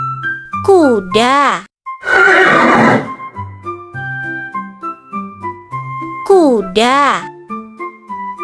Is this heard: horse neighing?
yes